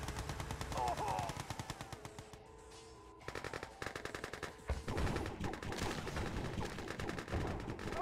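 Gatling cannons fire in the Yuri's Revenge strategy game, rapid rattling bursts that pause briefly and then resume in dense overlapping volleys, loud and continuous throughout.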